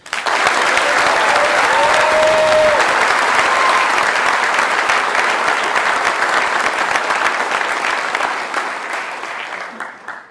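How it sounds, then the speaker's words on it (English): A large audience claps steadily for the 2026 Best Sapper Competition competitors at an awards ceremony, a loud, dense round of applause holding strong for about eight seconds before fading out. "please join me in one more round of applause to recognize the 2026 Best Sapper Competition competitors"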